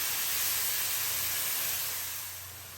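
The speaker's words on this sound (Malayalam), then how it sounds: "ഇപ്പോൾ ആ വെളുത്തുള്ളിയും ചുവന്നുള്ളിയും ചതച്ചത് നന്നായിട്ടൊന്ന് വഴന്ന് വരുന്നുണ്ട്" Crushed garlic and shallots sautéing in coconut oil while cooking beef with fresh jackfruit give off a steady, even hiss of frying, soft and continuous, easing slightly toward the end with no voices.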